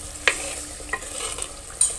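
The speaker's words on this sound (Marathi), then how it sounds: "मसाला शिजून राहिला." Masala cooks in a pot over a wood-fired clay stove, a soft steady sizzle broken by a few scraping stirs of a spoon, close and fairly quiet.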